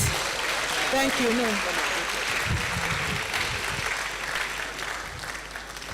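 Continuous audience applause fills the hall after a professor's lecture, a steady wash of clapping with someone speaking briefly over it.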